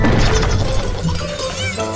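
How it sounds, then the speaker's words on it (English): Loud, dense smashing and crashing from the Shrek SuperSlam video game, a continuous chaotic burst of impacts and clatter filling the short stretch with no pause. "Oh, hey, Shrek, I didn't hear you come in with all that smashing, bashing, and crashing."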